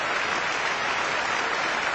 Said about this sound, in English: Let's applaud for him because it's good practice.